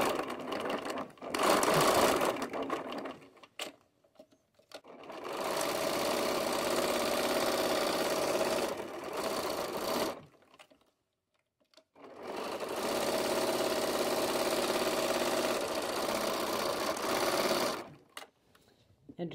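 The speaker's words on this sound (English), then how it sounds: "I then turn the machine to zigzag and finish off my edges." A sewing machine zigzag-stitches the raw fabric edges of an extended pocket, running in three long, steady, close-up bursts of even mechanical whirring separated by short pauses.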